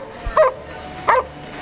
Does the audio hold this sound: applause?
no